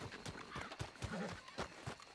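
Horse in Red Dead Redemption 2 whinnying over a run of clip-clopping hooves, a brief neigh mid-clip amid irregular hoof thuds, fairly faint.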